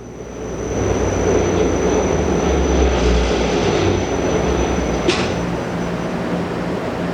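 A Hammond Roto-Finish machine hums steadily and loudly as its cycle winds down, a broad continuous mechanical drone with one brief sharp tick near the end.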